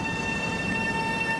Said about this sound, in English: Sander got onto the train and was off to work